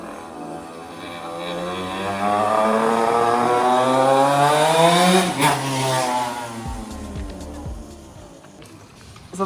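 Motorcycle engine revving up and settling back, with sweeping pitch rising then falling over several seconds, loud and close, with a rough idle-like rumble afterward.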